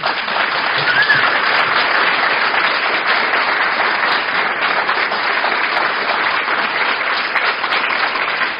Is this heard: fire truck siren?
no